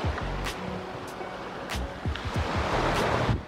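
Ocean surf breaking on a beach at Mochimune, Shizuoka, Japan: a steady washing roar with wind buffeting the microphone, low rumbling gusts and occasional brief hissy surges.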